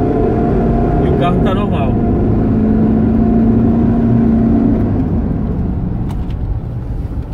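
A car pulls away and accelerates in a workshop test drive, its engine note rising steadily and loud, with people talking over it.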